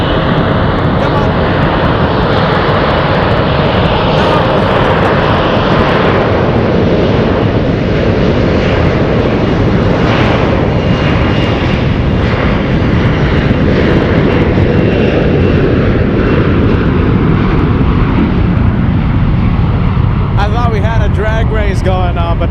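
Two airliners taking off side by side at San Francisco airport, a loud, continuous jet roar that swells and stays close for the whole stretch, then begins to fade and thin near the end.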